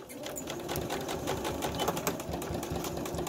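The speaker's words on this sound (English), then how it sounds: "I'm just sewing the pocketing." Sewing machine stitching the pocket lining of an 18th-century frock coat, a steady continuous mechanical whir with rapid needle rhythm, fairly close and alone.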